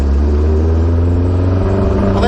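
A Porsche 914 engine revs while the car drives through town, a loud, close, steady rumbling drone that swells slightly, with no talk.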